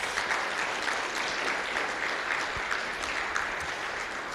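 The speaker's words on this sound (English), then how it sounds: "So a round of applause then." Applause from the audience at the ICFP 2025 conference general chair report, a steady, even clatter of many hands clapping, sustained throughout with no voices above it.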